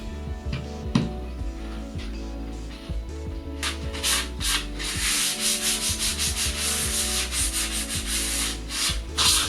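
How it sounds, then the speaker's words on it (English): Fine sandpaper rubs over chalk-painted wooden furniture in steady back-and-forth strokes, a close, gritty scratching that gets brighter and more rhythmic partway through. "I'll just be going over with the fine sandpaper in that area."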